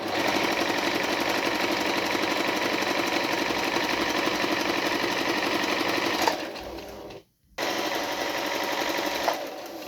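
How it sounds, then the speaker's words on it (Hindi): A Brother Cesilia sewing machine runs at full speed, a loud close continuous rapid needle chatter that stops briefly near the end, then starts again, with no talking. "ये इसका स्पीड यहाँ से आप तेज़ करें, ये फुल स्पीड है।"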